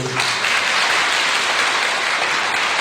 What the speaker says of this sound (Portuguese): Pode aplaudir a pergunta dele.